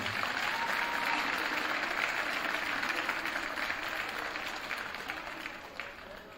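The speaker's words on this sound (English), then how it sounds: "Another round of applause for our MVP winners." Sustained applause from an audience honoring MVP winners at a high school winter sports awards ceremony, a dense, steady wash of many hands clapping that fades slightly toward the end.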